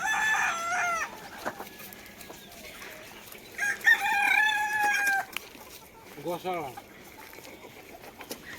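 In a backyard poultry shed, hens cluck and a rooster crows in loud, close bursts, with a drawn-out crow near the middle and further clucks later, amid background voices and shuffling.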